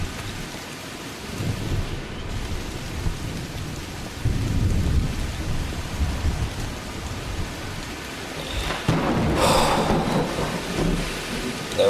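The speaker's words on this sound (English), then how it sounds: "Just the rain." Steady heavy rain hisses on surfaces while low thunder rumbles swell and fade, with a sharper crack of thunder near the end.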